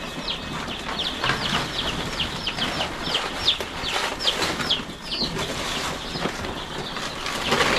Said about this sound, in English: The chicks will move on the side as I do my work